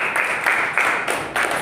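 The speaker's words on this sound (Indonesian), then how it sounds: "Oke, tepuk tangan." A group claps together in a classroom, a dense steady patter of many hands lasting under two seconds with small surges, fairly loud and close.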